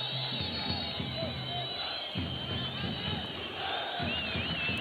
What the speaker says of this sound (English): This is the loudest the crowd have been all night.